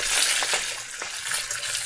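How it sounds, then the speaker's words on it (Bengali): A fish head fries in hot oil with spices, a steady dense sizzle and crackle close up, continuous with small popping bursts and no talking. "তো এখানে দেখো মাছের মাথাটা ভাজা হচ্ছে"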